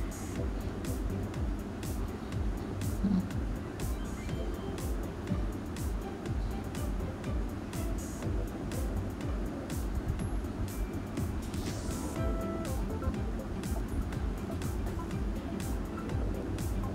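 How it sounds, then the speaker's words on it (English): Steady loud road traffic at night, a continuous low rumble of passing cars with no distinct pauses, heard from indoors over the full stretch. "But looks like the traffic is much louder now."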